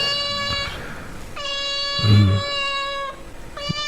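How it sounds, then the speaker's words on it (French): Recorded cat meows play back in three long, drawn-out calls separated by short gaps, clear and fairly loud with no talking over them. "je laisse jouer ça des sons de chats qui miaulent comme ça"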